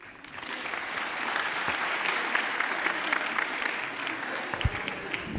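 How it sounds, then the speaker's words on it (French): Audience members in the National Assembly applaud continuously, a dense, fairly loud wash of clapping that holds steady, with faint voices mixed in. "tout le monde va applaudir"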